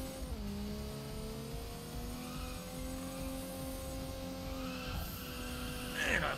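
A racing car engine in Initial D Arcade Stage Zero holds a steady high revving whine, then blips and drops in pitch on a downshift near the end, mixed with faint road noise and a brief screech.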